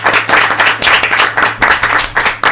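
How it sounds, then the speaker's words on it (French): Close, loud clapping from an audience after a live song performance in a radio studio, quick uneven hand claps in a steady burst. "On applaudit."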